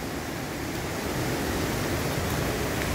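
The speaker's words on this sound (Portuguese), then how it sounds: "Cachoeira bonita." Steady broadband rush of a pretty waterfall in a well-preserved orchid-rich forest habitat, a constant full roar with no breaks and no voices over it.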